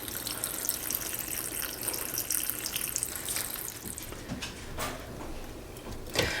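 Tap water running continuously into a big 2-gallon jar for apple cider vinegar, a bright steady rushing fill with a few clinks near the end.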